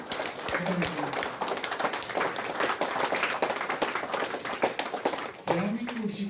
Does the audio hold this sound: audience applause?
yes